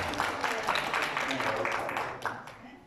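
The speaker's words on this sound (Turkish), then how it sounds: "Alkışlayalım Mehmet Bey?" Applause from an audience for a volunteer called up on stage, a dense steady patter of hands lasting throughout at moderate distance, with voices mixed in.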